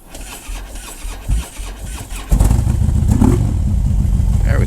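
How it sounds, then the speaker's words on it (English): Motorcycle engine starting after the bike is rolled down a driveway: scuffing and sputtering at first, then the engine catches and settles into a loud, steady rumble close by. "Why am I rolling down the driveway to start the bike?"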